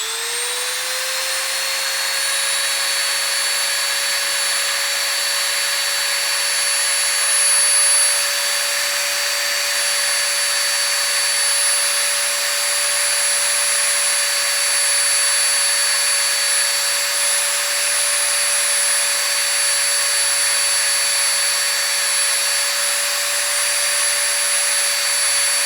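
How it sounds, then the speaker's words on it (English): Dremel rotary tool with polishing compound buffing Glock trigger parts, a steady high-pitched motor whine held loud and constant throughout, close up with no talking. "Should have enough polish on my Dremel to finish this up."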